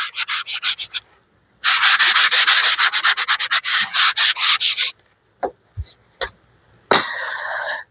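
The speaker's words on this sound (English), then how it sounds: "a sanding block instead of a paper" Wood being sanded by hand with a sanding block, heard as repeated rasping back-and-forth strokes in close quick bursts, a pause, then a longer steady run of strokes, followed by a few brief knocks and a final scratchy rub.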